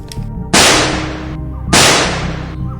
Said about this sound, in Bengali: দোনলা বন্দুকের দুটি গুলি গর্জে উঠতেই